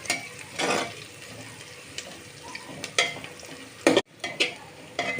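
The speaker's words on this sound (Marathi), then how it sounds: "आता आपण ह्यामध्ये पातळ उभा कापलेला कांदा घालून घेऊयात आणि तो गुलाबी रंग येईपर्यंत परतवून घेऊयात" Thinly sliced onion sautéing in spices in a pan for aloo matar pulao, with a continuous sizzle and several loud scraping stirs, including a sharp clatter near the end; no voices.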